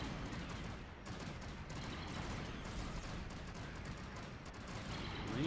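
Gunfire in a Star Wars strategy game, a continuous distant rattle of many weapons firing together in a dense battle wash, steady and fairly faint throughout with no clear voices.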